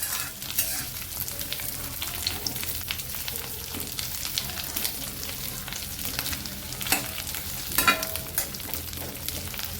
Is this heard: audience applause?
no